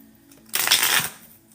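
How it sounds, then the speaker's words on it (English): A quick riffle of tarot cards: a short, crisp burst of flicking paper lasting under a second, close and fairly loud, then quiet. "me shuffle that a little bit better."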